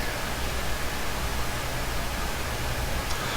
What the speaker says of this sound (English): there's a lot of background noise on my microphone that's being picked up